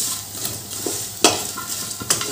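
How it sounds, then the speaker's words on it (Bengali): Pieces fry in a pan and are stirred until they turn red, a close crackling sizzle broken by several sharp scrapes and clinks of the utensil against the pan. "এই টুকরোগুলোকে ভাজতে হবে লাল লাল করে"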